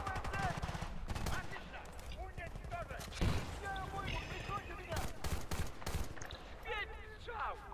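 Bursts of rapid gunfire from the Battlefield: Bad Company 2 campaign rattle repeatedly, with scattered single shots and voices talking over the shooting.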